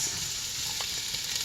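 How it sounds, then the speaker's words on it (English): Celery, onions and carrots sizzle in hot oil for a holiday dish. A steady, close crackle of frying runs unbroken and alone, with no talk. "our oil is heated. So in goes the celery, the onions, the carrots."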